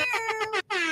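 An air horn sounds on a podcast: several loud pulsing honks that break for a brief silence, then resume as one long steady blast.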